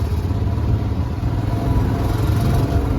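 Motorcycle engine running steadily and loud up close as the bike threads past a traffic jam of stopped vehicles on the foggy road toward Kedarnath, a constant throbbing drone with no talk.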